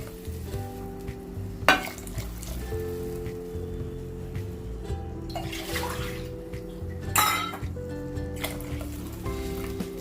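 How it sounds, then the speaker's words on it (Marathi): Water poured into a hot pan of sprouted green moong curry with Malvani masala, making a steady hissing sizzle and bubbling rush that runs for several seconds, with a few brief louder splashes and no talk. "त्याच्यात पाणी घालूया"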